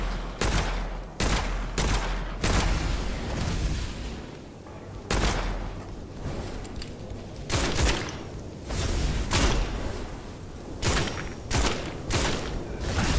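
Gunshots in the soulslike shooter game Witchfire, a run of loud separate blasts with uneven spacing and short gaps between them, close and punchy, no voices.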